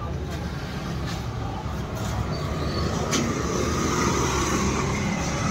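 A vehicle is taken out and driven on a dusty village road, its engine a steady close rumble that grows slightly louder as it gets under way.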